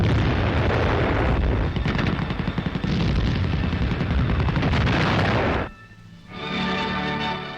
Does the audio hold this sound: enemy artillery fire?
yes